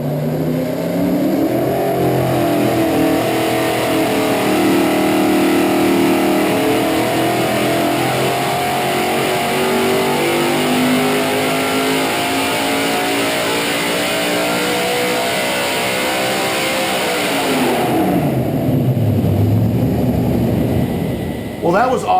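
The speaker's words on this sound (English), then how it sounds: "that was awesome to see that dyno pull" A car engine under load on a chassis dyno, revving steadily upward for about seventeen seconds at high volume, then dropping off sharply as the throttle closes and the engine winds down.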